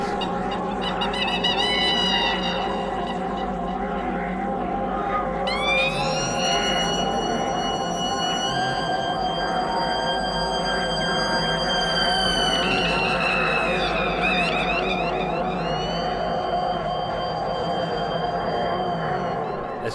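Screaming guitar feedback from a guitarist's pedal wired the wrong way round during a live performance, loud continuous wailing tones that slide and swoop in pitch over a dense sustained band, lasting throughout.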